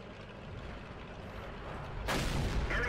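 An M18 Hellcat tank destroyer fires its cannon in World of Tanks: a low engine rumble, then one sudden loud blast that rings on to the end.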